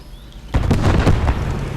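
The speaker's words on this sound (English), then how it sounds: "Cannon keeps hitting dirt." A tank cannon shell slams into dirt in a World War II-style video game, one loud booming impact after a brief quiet lead-in, followed by rumbling debris and a long reverberant tail.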